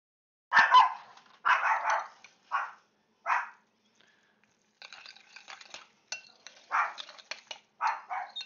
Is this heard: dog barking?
yes